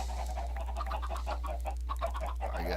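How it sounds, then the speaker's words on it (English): Chickens in the Minecraft video game cluck in quick repeated bursts over a constant low hum, close and fairly loud, with no talk over them. "got chickens stuck in there"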